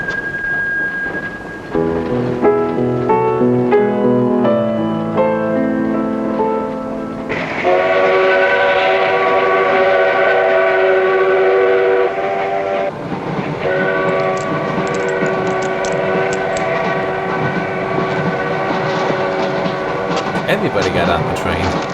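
A train in a horror film rolls along, and its whistle sounds in long sustained chords, loud and close, layered over rumbling rail noise.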